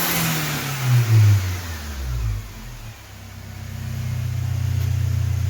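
Mercedes W204 C250 with an Armytrix downpipe revs up loudly nearby, its engine note rising and falling in a couple of bursts before settling into a steady, loud drone.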